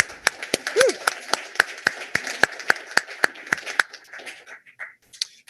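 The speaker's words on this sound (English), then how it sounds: "All right, one more round of applause for Shakir." Sparse applause for a graduate at a FoodWorks culinary graduation ceremony in Halethorpe, a small group clapping in distinct, fairly loud claps with a brief voice mid-clip, tapering off into near quiet by the end.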